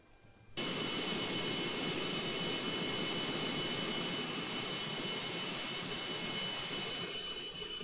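Tu-154B airliner engines in the FlightGear flight simulator roar steadily and loudly after a brief quiet start, a continuous jet drone with broadband rush lasting throughout.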